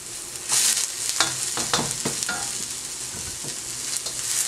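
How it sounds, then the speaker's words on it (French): Onions and carrots cooking in a pan for jjajangmyeon, a steady sizzle punctuated by several bursts of scraping and stirring with a utensil, close and without speech. "Vous allez bien mélanger et laisser cuire quelques minutes."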